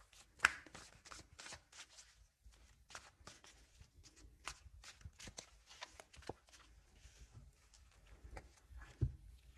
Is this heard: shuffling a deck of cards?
yes